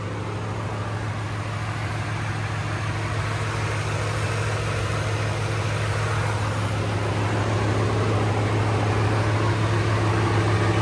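A supercharged Coyote 5.0 Whipple Ford Raptor idles with its radiator fans running, a steady low engine hum and constant fan whoosh holding evenly throughout with no voices.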